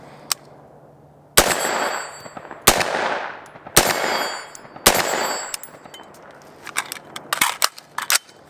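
Loud, sharp gunshots ring out from a pistol fitted with a Strike Industries compensator, several spaced single cracks with ringing decay, followed by a faster cluster of shots near the end.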